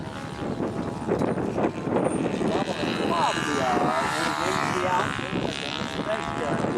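A model airplane's small propeller engine drones and buzzes through a flight at a windy outdoor national contest, pitch sweeping up and down as it passes, while people talk nearby and breeze rumbles.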